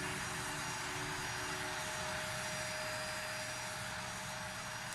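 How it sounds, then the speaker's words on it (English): A loud, steady airplane engine roar close by at an airfield, a CRJ regional jet holding short of runway 33 behind a business jet, filling the whole stretch without a break. "Airplane's a little loud."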